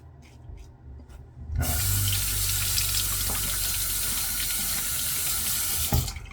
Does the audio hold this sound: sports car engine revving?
no